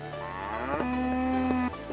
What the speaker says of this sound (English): Moo cow.